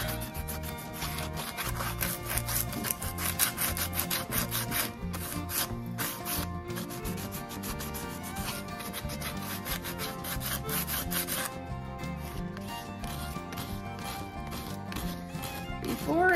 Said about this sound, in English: And now I'm going to go back and kind of scuff it up a little.